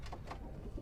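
A racing pigeon gives a brief low coo close by against a steady background hum.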